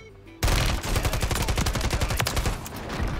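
An SVA 545 rifle fired in a video game, bursting in abruptly after a short quiet moment, then a loud, sustained stream of rapid automatic shots in tight rhythm lasting several seconds.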